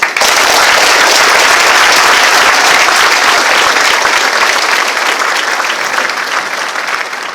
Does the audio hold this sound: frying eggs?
no